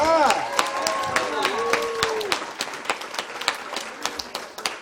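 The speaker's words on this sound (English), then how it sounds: "Another round of applause." Scattered audience clapping at a women's conference follows a brief spoken voice, a thin, uneven round of claps close by that tapers off.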